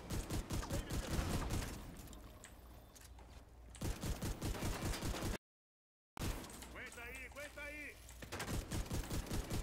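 Rapid automatic gunfire in the video game The Division 2, sustained bursts of sharp shots that pause briefly and resume, with a player talking over the shooting.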